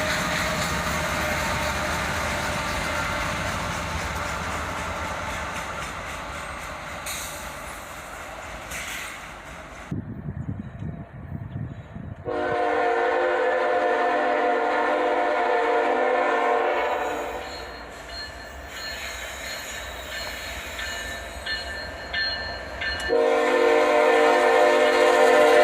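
Southbound coal train with an ET44AH locomotive passing: a long, loud horn blast over steady rolling rumble and wheel clatter, sounding again near the end as wagons keep rumbling by.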